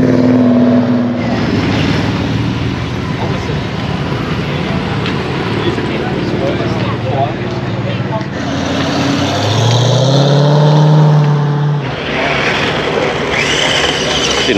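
A car with a big tank rumbles as it rolls away from a Cars and Coffee show in Samford, engine drone steady and loud with a rising throaty note near the end, people talking over it.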